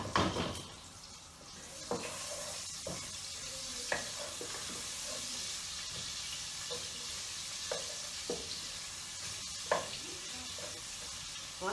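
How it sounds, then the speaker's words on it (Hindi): Onion hitting hot oil for a tadka while cooking bhindi, a steady close sizzle with stirring scrapes and occasional clinks of a spoon against the pan, no talking. "हमने ऑयल डाल दिया है, अब इसमें जा रहा है प्याज, 1 अदद प्याज बघार के लिए"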